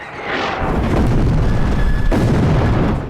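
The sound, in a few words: supporting artillery barrage in a World War II film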